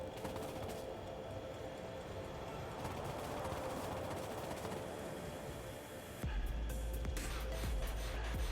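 Trains run in the Factorio video game, giving a steady mechanical rolling and clattering drone, with a deeper rumble that joins in near the end and keeps going until the sound stops.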